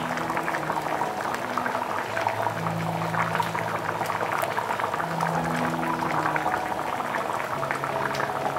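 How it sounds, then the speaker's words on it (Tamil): Pori kuzhambu, a tamarind-free South Indian curry, bubbles steadily in a pot, a continuous close, fairly loud simmering gurgle with popping bubbles throughout. "குழம்பு கொதிச்சு ரெடி ஆகிடுச்சு."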